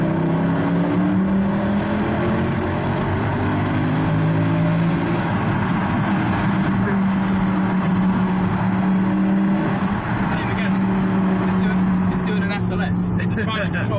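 A Mercedes C63 AMG engine roars and revs continuously, echoing loudly in a tunnel, with voices talking over it.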